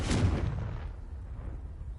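A Confringo blasting spell in Hogwarts Legacy explodes as one sharp, loud blast that booms and then fades away over about a second.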